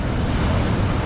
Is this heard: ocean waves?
yes